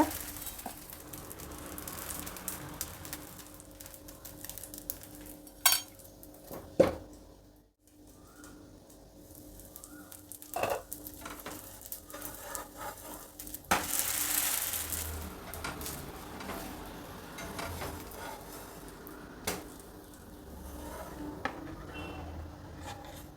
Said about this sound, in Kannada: ಈಗ ಇನ್ನೊಂದು ದೋಸೆ ಹಾಕಿ ತೋರಿಸ್ತಾ ಇದ್ದೀನಿ